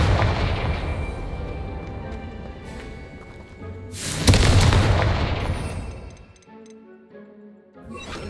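A Confringo spell blast in the video game Hogwarts Legacy, a loud booming burst that swells and rumbles for about two seconds, then fades into quieter game ambience and faint ticking.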